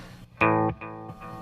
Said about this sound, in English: if I wanted to add some delay,